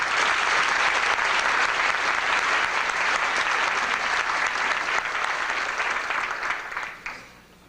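A lecture hall audience claps steadily to welcome Dr. George Box, a full, sustained round of applause that holds for several seconds and then tapers off quickly to quiet.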